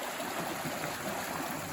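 Steady rushing and trickling of Laurel Fork Creek flowing close by along the Appalachian Trail, a continuous even wash of water with no voices.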